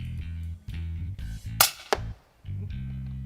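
An air rifle fires during a dassie hunt with one sharp, bright crack over a steady low humming drone, followed a moment later by a second short impact snap before the drone resumes.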